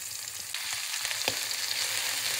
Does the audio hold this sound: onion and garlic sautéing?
yes